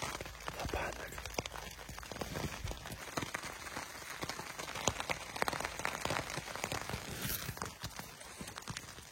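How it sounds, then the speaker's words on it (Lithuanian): Heavy rain falls at night beside a river, a faint, steady patter of many close drops hitting surfaces, continuous and unbroken. "pradėjo dar stipriau lyt"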